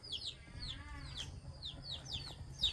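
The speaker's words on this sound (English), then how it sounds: "and roosters" Roosters in a rural Philippine province yard give repeated short calls and clucks, fairly faint and spread out against a low background rumble.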